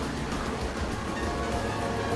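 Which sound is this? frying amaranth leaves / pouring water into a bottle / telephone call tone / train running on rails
train running on rails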